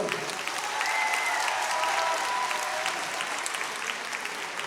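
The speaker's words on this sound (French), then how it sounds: "Allez-y, applaudissements pour tous." Conference audience at the Toulouse Game Show applauds, a broad, sustained wash of many hands clapping at moderate level throughout, with faint cheering and voices blended into the crowd.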